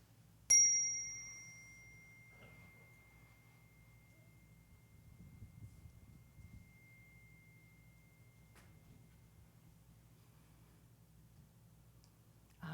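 A single bell is struck once during a family church service, giving a clear ringing tone that fades slowly over several seconds in a quiet room, with a faint click near the end.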